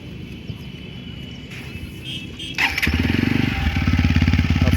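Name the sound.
TVS Apache RTR 160 4V motorcycle exhaust sound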